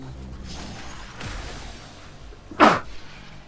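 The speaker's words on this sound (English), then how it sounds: "didn't need that sneeze out of nowhere" A single sharp, close sneeze bursts out suddenly against quiet game background noise, brief and loud, with faint rustling around it.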